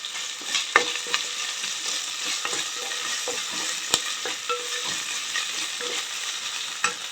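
Green chilies and curry leaves fry in a pan for a vegetable khichdi, giving a steady close sizzle with occasional sharp spoon taps and stirring scrapes. No one speaks.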